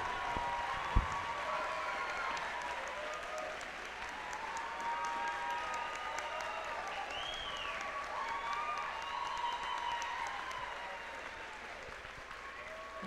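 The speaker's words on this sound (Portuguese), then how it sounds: "recebessem de todos nós uma salva de palmas" Sustained applause from a large crowd at a university graduation ceremony in Goiás, Brazil, steady and even throughout, with no break in the clapping.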